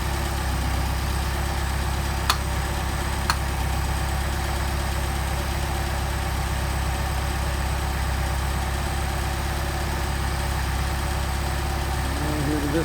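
A Mercedes 190SL engine that has not run in a long time idles steadily on leaking Solex carburetors, a continuous low rumble with two brief clicks early on.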